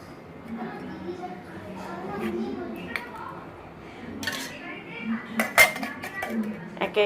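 Payesh is spooned into a tiffin box: metal utensils clink and scrape against the container in scattered bursts, growing busier toward the end, with soft talk in the background.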